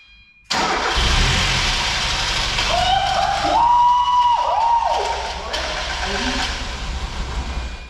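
An old car engine that has sat unused for twenty years starts up with a loud burst, then runs steadily close by, settling into an idle with some fluctuating revs.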